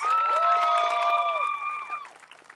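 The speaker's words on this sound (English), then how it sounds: "Give them a big, big round of applause." Crowd applauding the builders at a school grand opening for a new CTE building and radio studio, with clapping and a sustained whistle-like tone over it that fades out after about two seconds.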